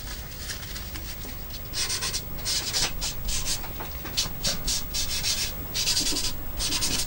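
Pencil and eraser worked on paper while drawing a cartoon character, heard as close, brisk scratchy rubbing strokes in repeated bursts of one to two seconds over a faint background hiss.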